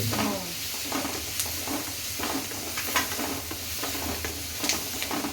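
Carrot and other vegetables sizzling and being stirred in a pan for fast-food-style egg fried rice, a steady moderately loud frying hiss with occasional spatula scrapes and clinks, with no talking.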